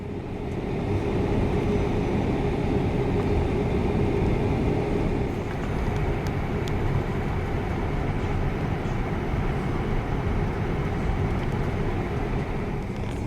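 A Lufthansa Airbus A340-600 airliner taxiing at Hong Kong airport, a continuous loud engine drone and cabin rumble heard from inside the aircraft, steady throughout with no talking.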